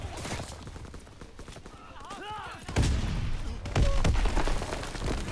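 Gunfire in the World War II shooter Call of Duty WW2, loud sharp bursts and rattling shots in the second half, following a quieter stretch with a horse whinny and hoof sounds in the game mix.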